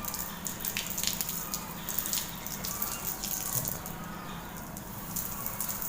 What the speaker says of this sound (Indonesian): Sini saya menggunakan selang sprayer. Nah, agar memudahkan teman-teman untuk menyemprot tanaman.